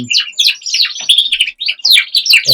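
Border canaries, three-parts dark cocks and buffs, sing in a bird room, with loud, close, rapid bright chirps and trills in quick overlapping bursts, broken by brief pauses.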